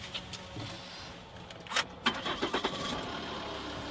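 Car engine cranking and catching in short bursts after a quiet start, a few uneven turnover pulses followed by a rough, sputtering run at moderate loudness with no talk.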